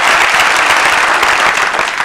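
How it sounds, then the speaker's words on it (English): Loud, dense applause from a television studio audience, continuous and close for a couple of seconds with no voices over it. "Sure, you can applaud that."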